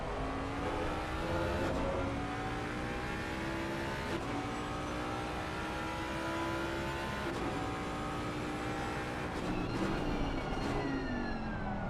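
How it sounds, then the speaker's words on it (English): A Ford race car engine in Assetto Corsa Competizione roars continuously at high revs, with several upshifts and rising pitch sweeps as other race cars run alongside in a steady, loud racing din. "You can hear the Ford."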